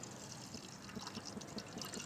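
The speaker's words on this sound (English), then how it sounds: "Now take the warm water and pour it to a certain level." Warm water is poured into a glass holding a spoonful of powder, giving a soft, steady trickle of liquid that stays faint and close throughout.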